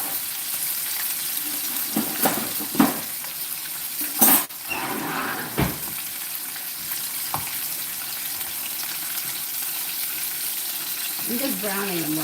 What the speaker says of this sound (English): I'm just browning them right now.